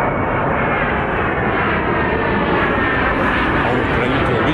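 An aircraft passes overhead in Kyiv, a loud continuous broadband roar of engines that holds steady and dominates the scene.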